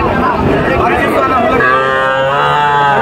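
Cattle at a heifer calf market in Joypurhat, Bangladesh: one loud, close, drawn-out moo that rises and holds over a dense murmur of crowd noise.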